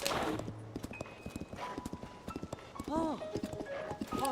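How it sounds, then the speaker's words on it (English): Horse hooves clip-clop at a steady gallop in Zelda: Tears of the Kingdom, the horse ridden through the overworld, with a brief whinny and light game music over the hoofbeats. "just riding my horse through the overworld"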